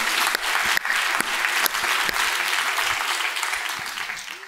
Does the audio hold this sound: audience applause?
yes